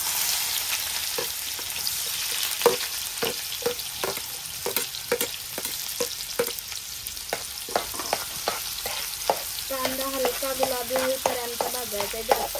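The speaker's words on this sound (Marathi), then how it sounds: "आता आपलं आपलं तेल चांगलं गरम झालंय आता त्याच्यात कांदा टाकतो" Onion frying in hot oil over a wood-fired stove, stirred with repeated rhythmic scraping and clinking strokes over a continuous sizzle. No one speaks.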